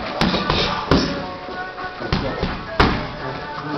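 Kickboxing kicks, including high kicks, landing on pads during a training session, heard as a few sharp close thuds spaced irregularly amid gym noise and a coach calling out.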